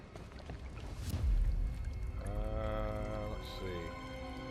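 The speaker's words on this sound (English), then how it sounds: "I gotta put water in something to make a weight lift." Water pours in a steady stream to weight a lift in Batman: Arkham Knight, swelling briefly near the start, with sustained game tones and ambient noise running underneath.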